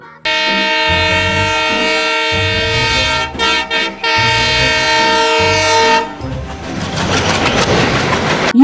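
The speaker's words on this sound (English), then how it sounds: "T for train" A train sounds its horn in a long, loud, sustained blast that breaks off briefly, then gives way to rumbling, clattering rail noise.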